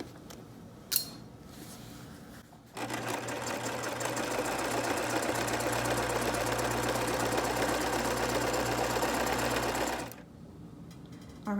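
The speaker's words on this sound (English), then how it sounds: "we are now going to stitch that lower hem edge of the Roman shade" A sewing machine runs steadily for about seven seconds, stitching the lower hem edge of a fabric Roman shade, with a constant mechanical whir and rapid needle rhythm, preceded and followed by quieter handling noise.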